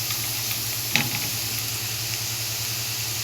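Steady sizzle and hiss of vinegar hitting a hot pan of golden-fried garlic and eggplant for moussaka, with a brief louder spurt about a second in, then a constant close, even frying hiss with no talking.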